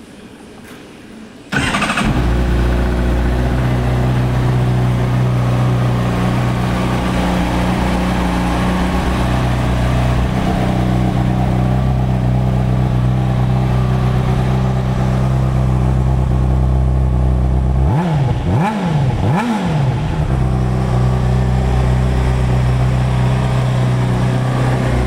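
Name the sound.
2009 Honda CBR600RR motorcycle engine starting and revving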